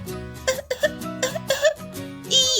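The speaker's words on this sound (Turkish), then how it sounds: "biraz öksürüğüm var" A voice-acting a character in a pretend fire rescue coughs repeatedly: several short, rough bursts in an uneven rhythm, close and fairly loud, ending with a strained, higher throaty sound.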